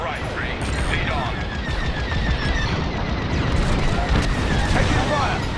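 Space combat gunfire in the Star Wars Squadrons video game, a dense, continuous barrage of blasts and rapid laser fire under a loud rumbling battle mix, with radio voices talking over it.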